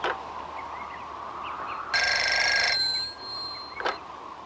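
A telephone bell rings once in a short burst against a steady background hiss, followed by fainter tonal ringing and a sharp click near the end.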